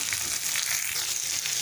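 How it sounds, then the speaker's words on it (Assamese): Onions frying in hot oil in a pan, a loud, continuous close-up sizzle with faint stirring, no voices. "পিঁয়াজখিনি একেবাৰে ব্ৰাউন কালাৰ হোৱালৈকে ভাজি ল'ব লাগিব।"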